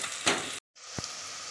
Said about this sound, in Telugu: ఆనియన్స్ ఇలా ఫ్రై అయ్యాక ఇందులో కొద్దిగా జీడిపప్పు పలుకులను వేసుకొని మరికొంత టైము